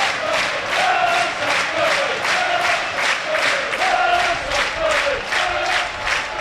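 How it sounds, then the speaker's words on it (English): Football crowd at a Burnley stadium during a Championship match against Blackburn, a loud, rhythmic chant swelling and falling in regular pulses, filling the stands with massed voices. "Plenty of noise from the Burnley crowd."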